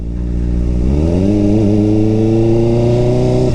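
A Kawasaki Ninja ZX4RR motorcycle engine revs up loud and close, its pitch climbing smoothly and holding high at a steady, buzzy roar.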